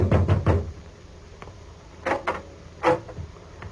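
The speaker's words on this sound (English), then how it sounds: "I knocked at the door." Knuckles rap on a front door in short clusters of a few knocks, with a pause between groups, fairly close and quiet against a hushed room.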